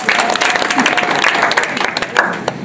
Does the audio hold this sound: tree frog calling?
no